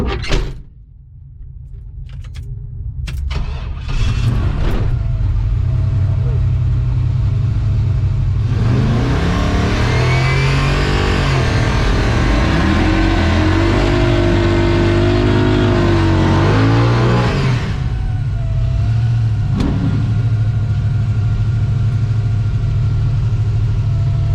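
A car engine with nitrous, revving and accelerating hard with a loud sustained roar that climbs through the gears and surges in the middle, recorded up close from inside the car.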